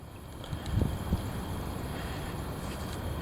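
Heavy wind buffets the microphone in a steady broadband rush with a couple of low thumping gusts early on, close and continuous throughout the short stretch.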